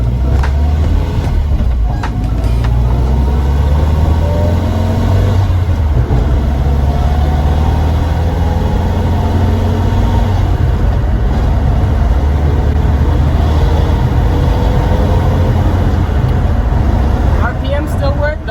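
A Nissan 240SX S14 with a newly swapped manual transmission drives along, its engine and road noise a steady, loud low drone that carries through the whole stretch with a few brief clicks and rattles.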